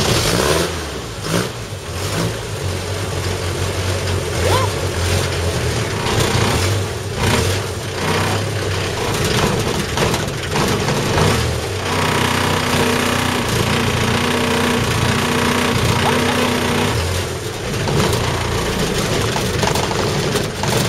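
A Mercedes 406D diesel engine runs after glow plug preheating, a loud, steady, rough clatter close by that holds throughout with no pauses.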